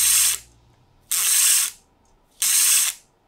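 Drag of a 3D-printed fly fishing reel, heard as three close, loud bursts of rapid ratcheting clicks, each about half a second long, separated by brief silences.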